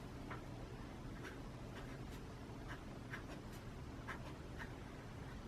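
Handwriting in a planner gives soft, faint scratches and taps of pen on paper in short irregular bursts over a quiet background.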